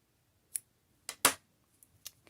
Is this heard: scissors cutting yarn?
yes